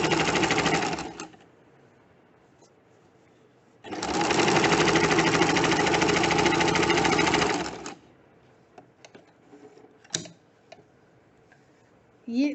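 Sewing machine stitching a plain seam through two matched fabric layers, two loud steady runs of rapid mechanical whirring separated by a pause, followed by faint clicks and handling.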